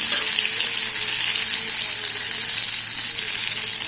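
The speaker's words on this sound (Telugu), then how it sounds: "నూనె వేడెక్కిన తర్వాత అల్లం వెల్లుల్లిపాయ ధనియాల పేస్ట్ వేసి వేయించుకోవాలి" Loud, continuous hiss and sputter of ginger, garlic and coriander paste frying in hot oil in a kadai on the stove, close and unbroken with no talk.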